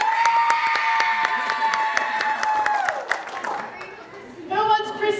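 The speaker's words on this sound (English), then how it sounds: "I'm going to go by the biggest cheer that I hear" An audience at a family show cheers and claps for a child picked from the group, with whoops and a burst of applause. Voices talk and chatter near the end.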